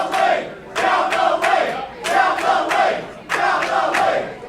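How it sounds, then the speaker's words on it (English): Wrestling crowd at a Leechburg street fight roaring and chanting in loud repeated surges, each swell rising and fading with sharp rhythmic claps or stomps punctuating it. "This crowd is getting into this Leechburg street fight"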